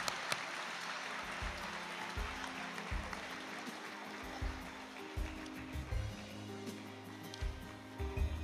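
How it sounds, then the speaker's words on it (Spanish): A crowd claps steadily at a school graduation ceremony, a dense, sustained applause heard from within the hall, with a faint voice underneath. "le brindamos un fuerte aplauso no solo a este grupo, sino que a todo el primero básico A del colegio"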